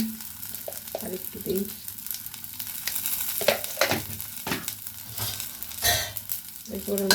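Fish sizzles in hot mustard oil in a kadai nearby, with intermittent scraping and stirring clatters breaking through the steady frying hiss; no talking.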